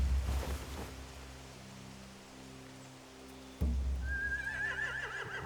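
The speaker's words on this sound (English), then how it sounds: "They have horses." Horses whinny in The Walking Dead video game, a couple of loud neighs separated by a quiet stretch, then a high sustained squeal near the end over a low ambient rumble, with no talk.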